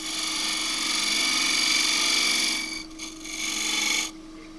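A 3/8 spindle gouge cuts wood turning on a lathe for a large crossgrain box, a steady loud rasping hiss over a constant hum, briefly easing off twice before the cut stops.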